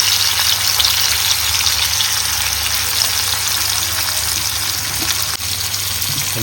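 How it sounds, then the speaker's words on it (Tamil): Kavalai fish fry in hot oil in a home kitchen, a loud, continuous, close sizzle with crackling spatter and no talking. "அதனால் கவலை மீன் வறுக்கிறோம்"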